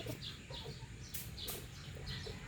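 Chickens, including roosters and young birds kept as pets, cluck and call in short repeated bursts at close range, over a steady low background rumble.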